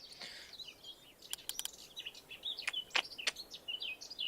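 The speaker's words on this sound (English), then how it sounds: "The birds are a bit too loud for me." Several birds chirp and tweet close by in bright, irregular bursts in Minecraft, some sharp calls standing out over a quiet outdoor background.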